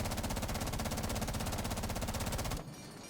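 A rifle in Rainbow Six Siege fires a long, rapid, unbroken automatic burst for about two and a half seconds, with evenly spaced sharp shots, loud and close, then stops abruptly.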